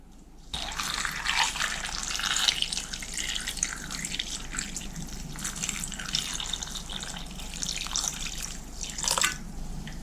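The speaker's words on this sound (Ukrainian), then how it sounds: "заливаю водичкою" Steady splashing of water running into a pot of food with bay leaves and salt, a continuous close wash of liquid with a few louder surges near the end.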